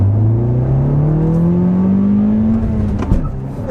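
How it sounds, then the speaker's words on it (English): A 2021 Toyota Corolla Apex Edition with a manual gearbox accelerates hard on a back road, its engine climbing loudly and steadily, then a brief tire chirp as it grabs second gear. "Chirping the tires there in second."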